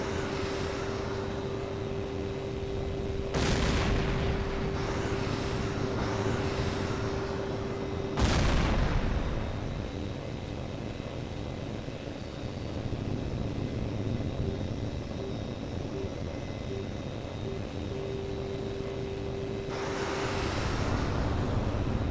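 Jets and heat-seeking missiles in the video game HAWX 2, a steady engine drone broken by several sharp whooshing missile bursts, the loudest near the start and middle, with a faint repeating tone underneath.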